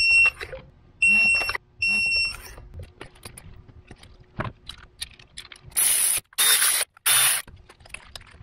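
A ratcheting wrench clicks in short bursts while tightening spark plugs in a Lexus IS250 engine, with scattered metallic taps and a few harsh spraying hisses near the end, close up.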